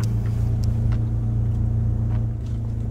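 A four-wheel-drive truck idles and rumbles steadily with a low engine drone while its drivetrain shifts into four-wheel drive, close and loud, with no voices.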